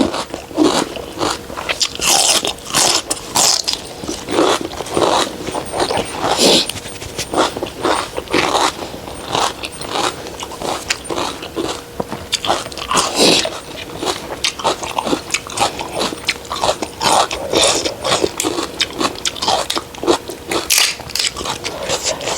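Close, loud crunching and biting on crisp, large fresh vegetables eaten with spicy Thai papaya salad and tiger prawns, in rapid repeated bites and chewing that continue throughout.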